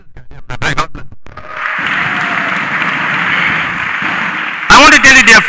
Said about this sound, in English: Can you give a very big clap for Jesus?